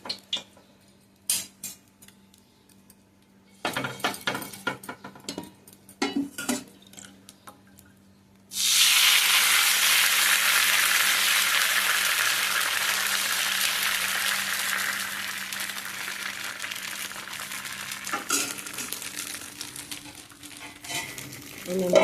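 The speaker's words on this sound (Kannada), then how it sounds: "ಎಣ್ಣೆ ಬಿಸಿ ಆಯಿತು. ಕಟ್ ಮಾಡಿಕೊಂಡಂಥ ಗವರನ್ನು ಹಾಕ್ತೀನಿ. ಚೆನ್ನಾಗಿ ಫ್ರೈ ಮಾಡಬೇಕು ಎಣ್ಣೆಯಲ್ಲಿ." Cut cluster beans and potatoes are dropped into hot oil and burst into a loud, steady, close sizzle that holds for many seconds, after some scraping and clinking in the pan.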